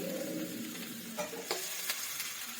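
Radish stirred in a hot pan with turmeric and salt, a steady soft sizzle under a few scraping strokes of the spoon, close and quiet, with no voices.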